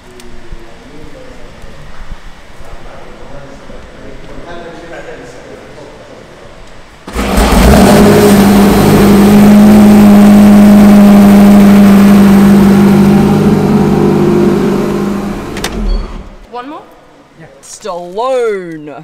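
A hybrid sports car switched into sport mode bursts into a loud, sustained rev that roars and holds for several seconds, then drops away; quieter sounds and a voice come before and after.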